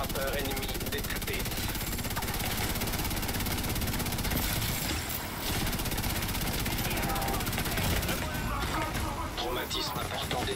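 An enemy strike drone from the video game The Division 2 flies with a constant loud rotor-and-engine drone. The sound fills the whole stretch, with French voices and game noise mixed in.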